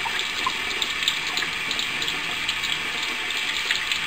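Water runs steadily from a tap, a constant close hiss and splash that holds without pause throughout, with no talking over it.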